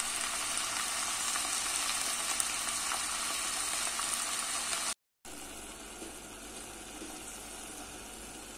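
Purslane and minced meat cook in a pot on the stove with a steady, close sizzling and bubbling hiss, briefly cut off midway, then continuing slightly quieter.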